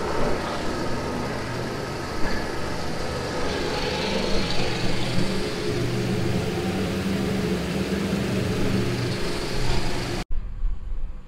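A machine's engine idles at a steady, continuous rumble on a seeding-equipment setup, with a slight haze from the exhaust and a suspected coolant issue. The sound stays even throughout, then cuts off abruptly near the end.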